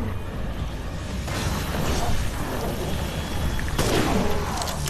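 Sniper rifle gunshots in Resident Evil Village, inside Heisenberg's factory: two loud sharp reports with broad crashing tails, one early and one about two and a half seconds later, over a rumbling industrial background.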